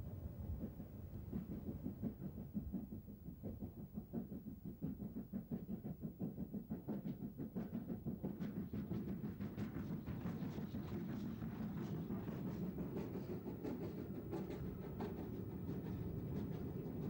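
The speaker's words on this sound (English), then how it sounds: "the train set off again through the station, passing its still extensive goods yard before crossing the head of the basin over the single-line lattice girder bridge" A train departs through a station past a goods yard and rolls over a single-line lattice girder bridge, its steady rhythmic clickety-clack and rumble building from faint to fuller and continuing evenly throughout.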